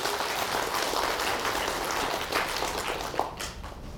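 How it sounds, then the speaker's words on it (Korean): Sustained audience applause at a book launch lecture for a 2018 tax guide, steady dense clapping from a crowd filling the room for about four seconds without talk. "박수 한번 쳐야지."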